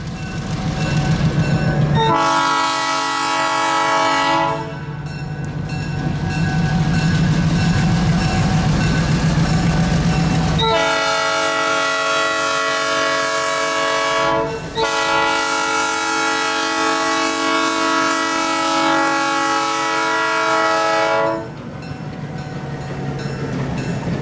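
A Georgia Pacific short line freight train rumbles past close by, its horn sounding loud in long repeated blasts over the steady roll of the cars.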